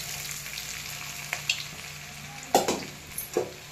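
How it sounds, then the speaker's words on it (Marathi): Peanuts fry in a pan for sabudana khichdi, a low continuous sizzle with a few sharp clattering stirs and taps, the louder ones toward the end. "आता आपण शेंगदाणे टाकून घेऊया।"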